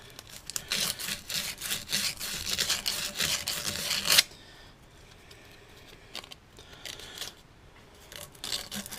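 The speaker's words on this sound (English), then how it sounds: "take some really fine grit sandpaper and just run it in here to clean any rust up" Fine grit sandpaper is rubbed inside a rusty U-joint cap bore on a Ford Ranger, giving a quick, raspy scrubbing for about four seconds before it drops to quiet handling noises.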